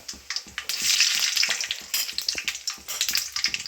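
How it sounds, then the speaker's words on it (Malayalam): Mustard seeds spluttering and popping in hot oil in a pan while a mutton roast is being made, a steady close crackle with sharp irregular pops throughout, no voices. "ഏതാണ്ട് എണ്ണ ചൂടായിട്ടുണ്ട് ഇങ്ങനെ കുമ്പള കുമ്പള വരുമ്പോഴത്തേക്ക് അത് ചൂടായിട്ടുണ്ട് അപ്പോഴത്തേക്ക് ഒരു സ്പൂൺ കടുക് ഇടുക"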